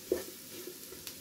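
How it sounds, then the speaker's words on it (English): Onions and celery soften in a pan with butter and a few spoons of flour, giving a faint, quiet sizzle broken by a few soft stirring scrapes. "The onions and the celery are softening up just nicely."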